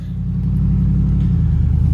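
A truck engine turns over and settles into a loud, steady low rumble, idling close by with no talking.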